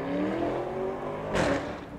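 A Lamborghini Urus SUV sweeps past on a downtown street, its engine roar rising into a loud, close rush around the midpoint before easing back into steady traffic noise.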